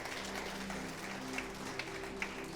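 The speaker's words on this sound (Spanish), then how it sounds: "Dele un fuerte aplauso al Señor" A church congregation at a Spanish-language service claps together in a dense, continuous burst of applause that stays even and fairly loud throughout, with a low hum underneath.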